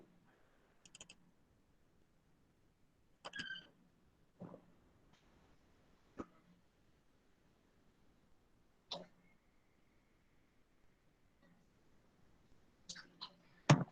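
Sparse, quiet mouse clicks on a computer while a program is run, arriving singly and in small clusters with long silent gaps between them.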